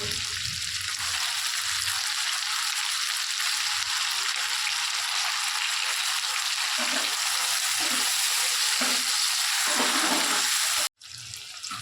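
Chopped tomatoes fry in ginger-garlic paste in a pan for a Bengali fish curry, a loud continuous sizzle with spoon stirring, cut off briefly near the end before resuming, no talking.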